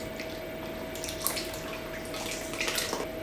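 Gelatinous stock poured into a pot of onions for French onion soup, a soft, steady liquid splashing and trickling for about three seconds, faint and close, with no talk.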